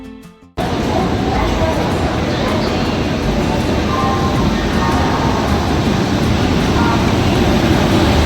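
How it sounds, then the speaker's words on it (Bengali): The Paharia Express from Howrah rolls along, heard from inside an unreserved general coach as a loud, steady rumble and rattle that starts abruptly after a brief moment of quieter sound. "80 টাকায় উঠে পড়েছিলাম পাহাড়িয়া এক্সপ্রেসের আনরিজার্ভ জেনারেল কামরাতে"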